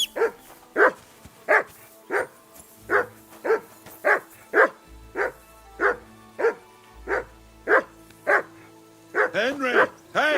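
Repeated dog barks from a video game, Kingdom Come: Deliverance 2, ring out about a dozen times in a steady rhythm, clear and fairly close, with a low background hum and a quick flurry of barks at the end.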